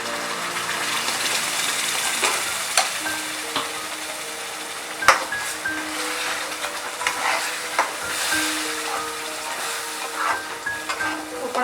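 Ground masala paste fries in a gravy for Veg Maratha, a steady sizzle with occasional stirring scrapes and light clinks against the pan, close and moderately loud, with no talking.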